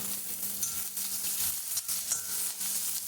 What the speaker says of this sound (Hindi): ये हमने एक बारीक कटा हुआ प्याज लिया है, इसको डाल देते हैं